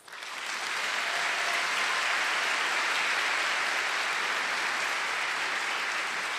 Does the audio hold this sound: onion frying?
no